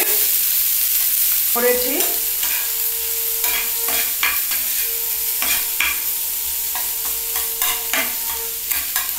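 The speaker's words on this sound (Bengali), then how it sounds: "এই পেঁয়াজটা বেশি ভাজা যাবে না এবং তেলটাও খুব কম দিয়েই করতে হবে," Chopped onion frying in a small amount of oil while being stirred, a loud continuous sizzle with scraping spatula strokes and knocks against the pan, and a brief spoken word near the end.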